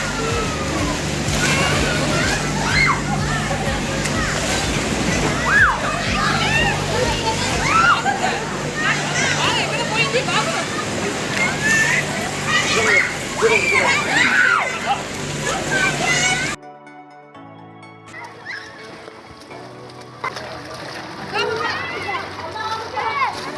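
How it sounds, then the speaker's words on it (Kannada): Water splashing and sloshing against a boat on Punganur Lake in Yelagiri while boating, irregular splashes under lively talk and children's voices, then a quieter stretch near the end. "ವೇವ್ಸ್ ಬರ್ತಾ ಇದೆ ಇಲ್ಲಿ."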